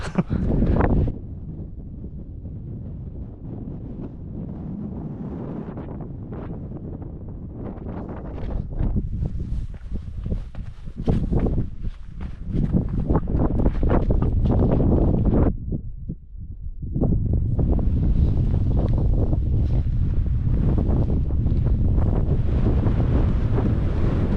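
Strong wind blows across an Adirondack mountain summit, buffeting the microphone in loud gusts with a brief lull partway through before roaring back.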